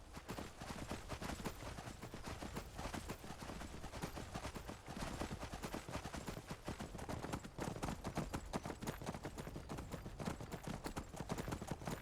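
Horse hooves clop in a steady, rapid rhythm as a mount is ridden off the road in the Skyrim video game, continuous and fairly quiet.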